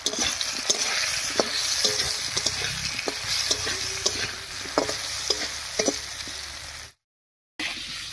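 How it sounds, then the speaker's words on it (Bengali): Cut potatoes with salt and turmeric stir-frying over a bay-leaf tempering: a continuous sizzle with repeated sharp scrapes and knocks of the spoon on the pan, then a brief cut to silence near the end. "আলুটা বেশ ভাজা ভাজা মতো হয়ে গেছে,"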